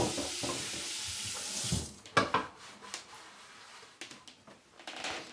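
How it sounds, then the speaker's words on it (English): A dish is rinsed under a running kitchen tap, water hissing steadily at first, then breaking into brief splashes and clinks as the flow is interrupted. "Give this one a rinse."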